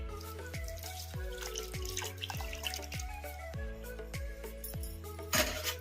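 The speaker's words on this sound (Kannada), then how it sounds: "ಈಗ ಅದೇ ಕಪ್ಪಿಂದಾನೆ 1 ಕಪ್ಪು ನೀರು ಹಾಕೋಣ" A cup of water going into poha dosa batter gives a close, quiet run of regular watery glugs and drips, about two per second, ending with a brief splash.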